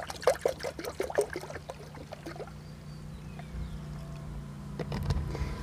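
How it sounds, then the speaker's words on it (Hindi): Leftover water is poured into a bucket of lime and detergent mix for a homemade car AC condenser cleaner, a close splashing and trickling that settles into a softer flow with a low background hum. "अब जो बचा हुआ पूरा पानी है तो इसमें डाल देता हूँ मैं।"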